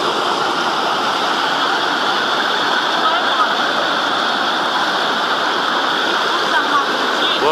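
Rushing water from the second waterfall at Santa Isabel pours in a loud, steady, unbroken roar that fills the whole stretch, heard up close.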